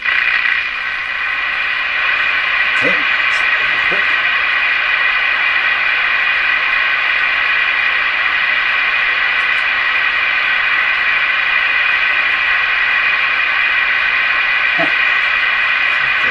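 Steady loud radio static hiss from a Canadian Westinghouse Model 684 radio while its antenna is tuned fills the whole stretch, with a few faint clicks and a brief word spoken near the start.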